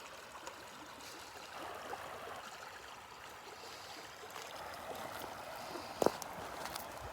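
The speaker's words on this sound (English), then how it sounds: "water going down the road." Rainwater running down a road on a mild, rainy St. Patrick's Day, a steady low trickle and stream-like wash throughout with a brief sharp knock near the end.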